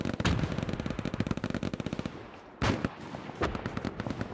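Video game firefight with rapid machine-gun bursts close by, a long staccato string of shots, a brief lull, then a heavy blast and more scattered automatic fire, with no talking over it.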